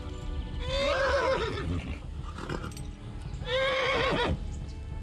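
A horse in the Kingdom Come: Deliverance video game lets out two loud, shrill whinnies a few seconds apart over a steady background of hooves and game ambience.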